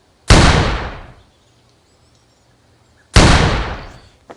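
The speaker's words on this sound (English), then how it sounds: "This gunshot sounds like it's like they made the sound in a range. You know, there's like echo." Two loud, close shotgun blasts in the Offroad Outlaws off-road game's bird hunt, each a sharp crack trailing into a long echoing decay, about three seconds apart with quiet between.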